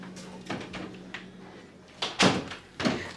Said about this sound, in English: I'm gonna close this door